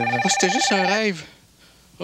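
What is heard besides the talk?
telephone bell ringing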